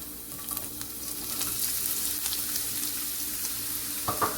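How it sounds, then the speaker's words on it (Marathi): Onion frying in oil on low gas for street-style anda bhurji, a steady soft sizzle throughout with faint stirring and a few light clinks near the end. "कांदा थोडासा मी तेलामध्ये जस्ट फ्राय करून घेतलाय"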